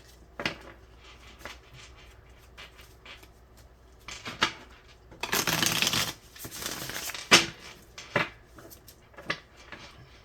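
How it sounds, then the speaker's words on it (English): A deck of tarot cards being shuffled during a daily reading, heard alone as several bursts of riffling and shuffling with one long dense burst in the middle and shorter card flicks and taps around it. "Last shuffle here for Geminis."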